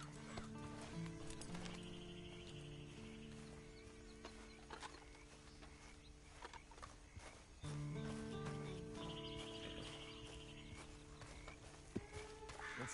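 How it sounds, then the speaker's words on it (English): Horse in the Red Dead Redemption video game, with hoof clip-clops and footsteps amid layered game music and ambience, plus a brief whinny-like tone over steady background sound. "And you better get on this horse."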